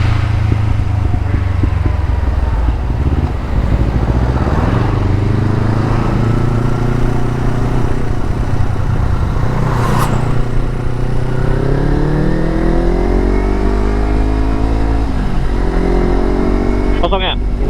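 A Kawasaki Versys motorcycle in third gear rolls downhill with its engine droning loud and close, pitch drifting up and down, under heavy wind rush and people talking.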